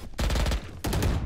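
Video game gunfire rattles in two rapid bursts of automatic shots, loud and close, each burst a quick string of sharp cracks separated by a brief gap, with no talk.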